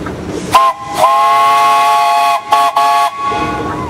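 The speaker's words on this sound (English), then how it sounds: "Give it to me one more time. You got a whistle." A Baker steam engine's steam whistle at a steam threshers show blows loud, sustained harmonic blasts, one short toot followed by a long held note, then two brief bursts and a final blast, with a hiss of steam between them.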